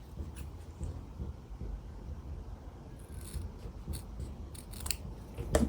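Scissors snip through quilt fabric with a run of close, quiet cuts and crisp rhythmic blade closures, alongside faint rubbing of the cloth.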